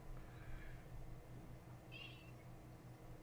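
A house cat gives a single short, faint meow midway, alone against a quiet indoor background hum.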